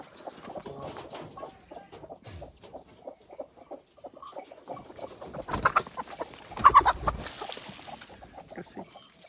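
Hens being let out into an open farmyard in the morning, clucking and squawking in scattered bursts that grow louder and busier toward the end, with no talk over them.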